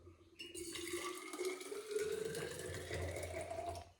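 Coffee poured into a flask, a rising liquid-filling tone climbing steadily over a few seconds as the vessel fills, fairly close and unaccompanied by talk.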